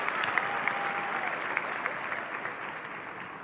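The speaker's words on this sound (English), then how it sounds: "Please give them all a round of applause." Commencement ceremony audience applauding former elementary school principals, a sustained even wash of clapping from a large crowd heard at moderate distance.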